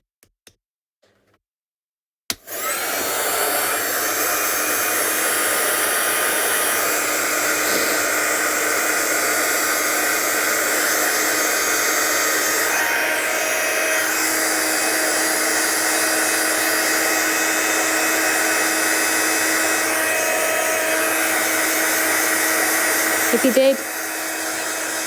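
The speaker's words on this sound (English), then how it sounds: "let's just grab our gun and dry this off because it's got that white on it, it'll smudge." Heat gun drying freshly stamped white ink on a craft card, switching on after a few quiet seconds and then blowing with a loud, steady whoosh; a voice speaks briefly near the start.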